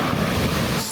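A loud, broad rush of water surges close by as a car ploughs through Rufford Ford, with wind buffeting throughout.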